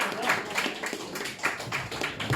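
Audience applause at a stand-up comedy gig, dense steady clapping from a crowd throughout, fairly close and moderately loud with a few louder bursts of hand claps.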